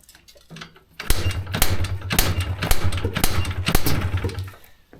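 After a single kick, a Yamaha YFM200 Blaster ATV engine catches and runs with a fast, rattling, ticking idle for a few seconds, close and fairly loud, before dying away.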